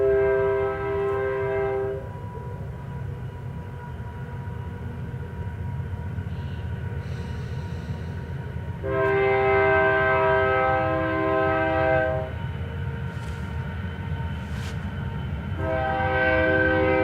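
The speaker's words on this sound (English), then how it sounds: "That train's nature is to honk its horn 4 times, 2 long, 1 short, 1 long" A train horn sounds at a railway crossing in long sustained blasts, two long, a short one and another long, over the steady rumble of a passing train.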